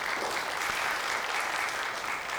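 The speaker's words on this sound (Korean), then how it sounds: "너무너무 고마운 분들이 박수 한번 쳐주세요." Church congregation applauding together during a Sunday sermon, a dense, steady wash of clapping that holds at even loudness across the whole stretch with no voices over it.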